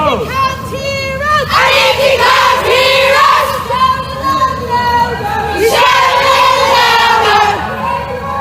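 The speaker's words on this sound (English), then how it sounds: "as you can hear, a fairly sizable crowd" Large crowd shouting and chanting at a street march for Alfie Evans on Grafton Street in Dublin, loud and continuous, with massed voices rising in waves and rhythmic chant-like bursts throughout.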